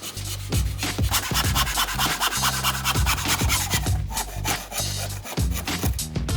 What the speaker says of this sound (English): I then used my large saw, so I cut them all by hand